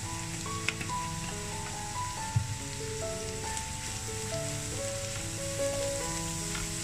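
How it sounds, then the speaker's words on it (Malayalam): Turmeric powder fries in hot oil in a pan for achinga payar mezhukkupuratti, a continuous busy sizzle like light rain with a few faint taps, no voices. "മഞ്ഞൾപ്പൊടി ഇതിൽ കിടന്ന് നന്നായിട്ട് മൂക്കണം."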